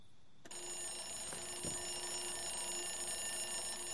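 A phone ringing in the video game Cleaning Madness 3, an electronic bell-like ring that starts abruptly and continues steadily, fairly quiet, with no talking over it.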